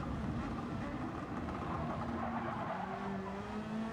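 A race car braking hard in a Super GT racing video game, a steady loud engine drone with shifting pitch and a faint tire squeal, with no voices over it.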